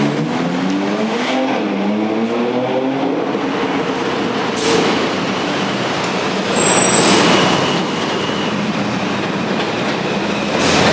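A New York City J subway train near Woodhaven Boulevard, Queens rumbles and clatters steadily along the tracks, loud and close, with a rising whine early on and a brief squeal midway.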